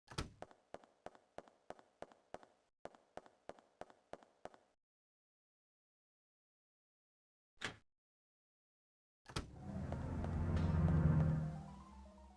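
A rapid string of short, sharp blasts from an infinite grenade launcher in the Dino Crisis game, then a single louder boom after a pause and a final heavy explosion trailing into a rumbling roar.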